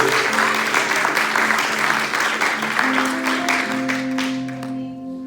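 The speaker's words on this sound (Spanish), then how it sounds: "Den un aplauso al Rey de Reyes." A church congregation applauds during a Spanish-language service with sustained clapping from many people. Held musical tones run underneath, and the clapping thins and fades at the end.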